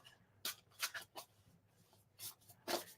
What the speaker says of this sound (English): The sound of the shuffling is really lovely as well.